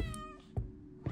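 A cat meows in a horror video game, two short separate calls about half a second apart over a low steady ambient drone, with no talking.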